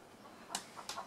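A backyard hen gives a few short, faint clucks just after laying an egg, two or three brief calls spaced out against quiet surroundings.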